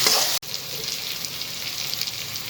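Turmeric, red chilli and coriander-cumin powder are stirred in a hot pan for vegetable upma, with a steady close sizzle and frying crackle after a sharp break near the start.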